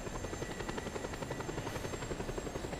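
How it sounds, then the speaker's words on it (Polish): A badly damaged helicopter flies in Just Cause 2, its rotor giving a steady, rapid thumping drone that stays even and close throughout, with no voices. "Myślę, że ten helikopter jest ledwo żywy, ale da radę."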